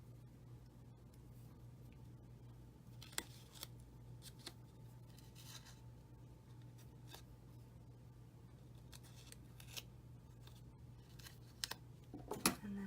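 Scissors snipping card-making material, a few quick sharp cuts scattered through quiet room tone, with a brief flurry of snips and rustling near the end, close but faint.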